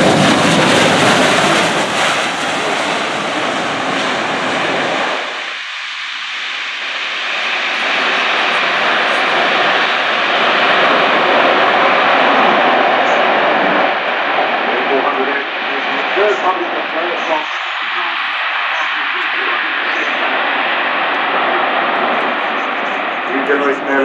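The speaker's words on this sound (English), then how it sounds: "So this is a remarkably agile aircraft, a very fine airlifter from" Broad, steady roar of an Airbus Defence military airlifter flying a display at the Farnborough airshow, loud and sustained throughout with a commentator talking over it.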